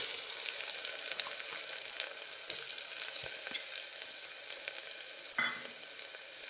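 Finely chopped carrots sizzle steadily in a hot pan with crushed black pepper and spices for a peas-carrot pulao, a continuous close frying hiss with a few brief stirring clatters and no talk.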